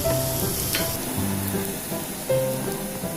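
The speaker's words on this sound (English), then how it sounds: "Flip and allow the Missi Parantha to cook well on this side too." A Missi paratha crackles softly in desi ghee on a hot pan, a steady close sizzle with a few faint tonal hums and light clinks, and no speech.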